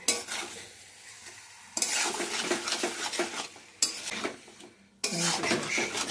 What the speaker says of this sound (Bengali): তো এখন একটু কষানো হয় হাই হিটে।